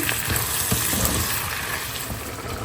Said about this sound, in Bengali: আস্ত শুকনো মরিচ এবং কি বলে পেঁয়াজ দিয়ে লবণ দিয়ে সুন্দরভাবে ভেজে নিচ্ছি